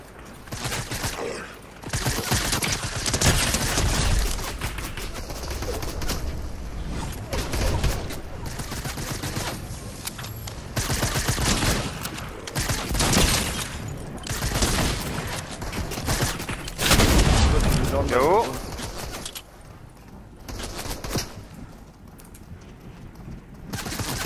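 Heavy gunfire in a multiplayer shooter video game: dense, sustained bursts of rapid shots and loud volleys across the whole stretch, easing into sparser shots near the end, with faint background sounds.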